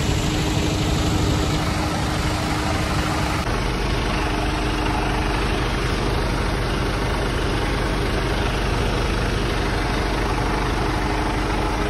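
A truck idles at a recycling factory, its engine giving a continuous low rumble with steady vibration, loud and close, unchanging for the whole stretch with no voices.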